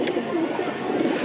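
A tournament racing pigeon with a boot-shaped beak coos in short, low, throaty murmurs, fairly close and steady, with a faint background voice but no clear speech.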